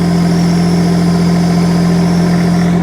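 A mini excavator engine running steadily at 30% throttle, a loud, constant diesel hum with a strong tonal drone and even vibration, close up and uninterrupted.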